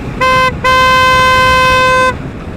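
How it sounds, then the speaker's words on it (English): Aftermarket car horn fitted to a Kawasaki Ninja 650 motorcycle sounds two loud steady tones nearby, a short blast followed by a longer held one of about a second and a half, with no talking. "I put on an aftermarket car horn. I only used one of the horn modules, not both."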